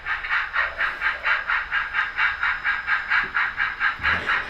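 A model train with a caboose and a locomotive in the middle rolls over rough track work, giving a steady, rhythmic clatter of about three beats a second, with a couple of heavier bumps near the end.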